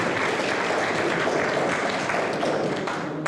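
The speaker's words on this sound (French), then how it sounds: "On peut l'applaudir." An audience at a French-language conference on Brazil breaks into loud, dense applause for a university professor, a continuous wash of clapping that eases slightly just before it ends.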